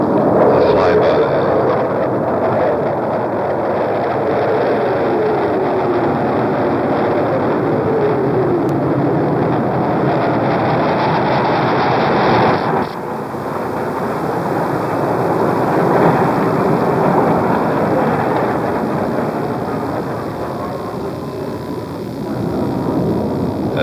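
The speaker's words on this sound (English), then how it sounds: "50 Air Force fighter planes, one for each of the nation's 50 states, has streaked across the blue sky here over the gravesite" A formation of fifty Air Force fighter jets roars overhead above a gravesite at a 1963 state funeral, a loud, sustained broadband rush that dips slightly midway and keeps thundering throughout.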